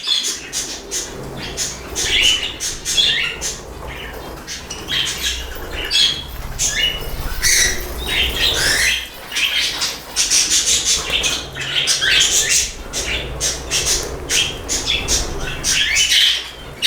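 Budgerigars and a cockatiel chirping and squawking while they bathe together indoors, a busy, loud, continuous stream of sharp close calls and tweets with short pauses.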